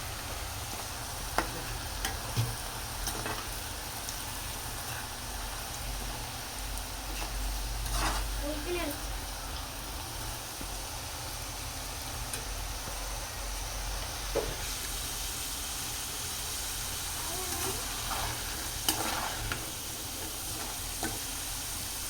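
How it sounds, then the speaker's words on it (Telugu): Homemade French fries fry in hot oil, giving a quiet, continuous sizzle broken by occasional soft clicks and scrapes from stirring. "ఇలా బ్రౌన్ కలర్ వచ్చే వరకు ఫ్రై చేసి"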